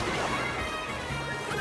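Firing the shock item in the Mario Kart World racing game sets off a sharp crashing burst layered over continuous in-game engine and race noise, loud and dense for a moment.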